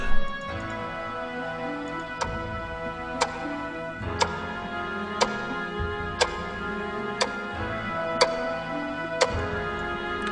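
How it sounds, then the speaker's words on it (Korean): A clock's second hand ticks steadily about once per second, each tick crisp and clear against a faint hum in the background. "째깍째깍 시계 초침 돌아가는 소리가 들린다."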